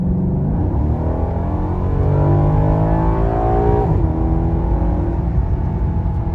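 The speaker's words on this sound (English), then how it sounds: "You can now hear the valves open up. So it's much louder." A Maserati Quattroporte Sport GTS accelerates hard with its exhaust valves open, the engine note rising loudly and steadily, then dipping briefly at a shift before pulling on.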